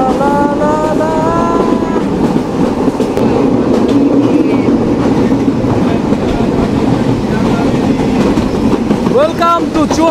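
A train rolling into platform 1 at Chuadanga railway station, a loud continuous rumble of wagons with clattering wheels, a few squealing tones near the start and end.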